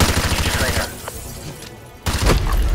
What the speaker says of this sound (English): they all start shooting at me and shit